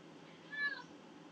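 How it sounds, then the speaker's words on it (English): A single short, faint meow from a cat indoors, rising briefly over quiet room tone. "I don't know if you guys can hear her meowing or not."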